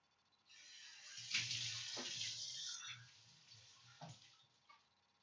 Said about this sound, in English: this just needs to be rinsed out with water